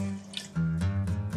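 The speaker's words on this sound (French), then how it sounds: "mouiller à l'eau. De l'eau de robinet, hein." Tap water pours into a cooking pot in a kitchen, where a paella stock with bay leaf and parsley is being made. The flow is close and steady, with a gurgling rise in pitch as the level builds, and no one speaks.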